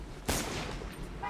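A single sharp gunshot in Mirror's Edge cracks out loud and close, followed by a short ringing tail and game ambience, with no voices.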